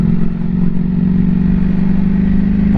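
A Ducati Panigale V4 on the road gives a loud, steady engine rumble under way, a constant throbbing drone with mechanical clatter and no speech.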